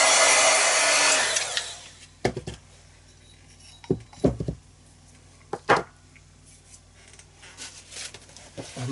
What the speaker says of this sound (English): I'm just going to give this a quick blast on the heat gun